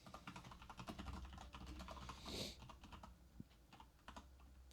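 Quick typing on a computer keyboard while searching card prices online for a Riftbound trading card display opening, a steady run of close, soft key clicks with a brief louder burst midway.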